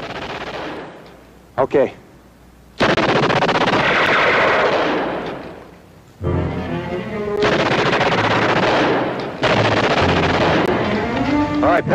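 Loud bursts of machine gun fire in a World War II television battle scene, heavy rattling volleys broken by short pauses, with a brief spoken word early on.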